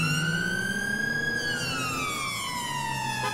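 A British-style police car siren in GTA 5 wails loudly, a continuous tone sweeping up then gliding down in pitch, with engine rumble underneath.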